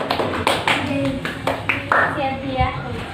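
Primary school children in a third-grade classroom clap together for a group, a dense burst of many small hands under a teacher's speaking voice.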